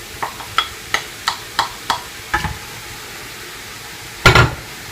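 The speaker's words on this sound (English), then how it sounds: "The mushrooms have been cooking on a medium heat now for about 5 minutes" Mushrooms and chopped red onion frying in a pan on medium heat under a soft, constant sizzle, punctuated by a quick series of sharp taps and then a louder scraping stir near the end.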